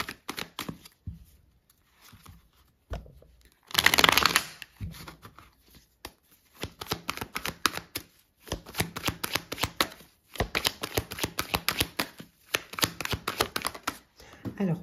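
Tarot cards shuffled by hand, bursts of soft riffling and tapping close by, repeated in short runs between pauses, with a brief louder flurry early on.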